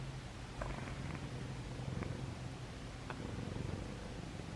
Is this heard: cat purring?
yes